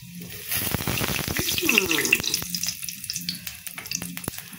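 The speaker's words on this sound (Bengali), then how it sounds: "আমার তেলটা গরম হয়ে গেল, আমি এখানে একটু এই যে জিরে দিয়ে দিলাম" Cumin seeds dropped into hot oil crackle and sizzle up close, sharp pops and a bright hiss swelling then settling, with faint stirring in the background.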